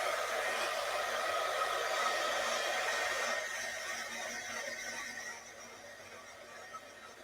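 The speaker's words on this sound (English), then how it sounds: "I'm gonna run my heat gun real quick to dry this up" A heat gun blows steadily to dry fresh acrylic paint on a black-background Christmas chapel painting, a loud continuous airy whoosh that softens a little partway through.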